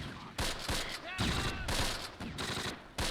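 Machine gun fire in the Close Combat video game crackles in several rapid bursts of distant automatic shots, with brief pauses between volleys over a low battlefield background.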